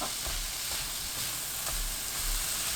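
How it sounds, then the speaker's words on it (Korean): Seasoned dried sweet potato stems stir-frying over high heat in a pan with oil, garlic and scallion, a steady close sizzle and hiss with faint stirring bumps. "양념한 고구마 줄기 넣고 센 불로 켭니다."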